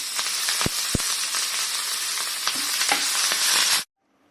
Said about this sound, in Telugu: తాలింపు వేసానండి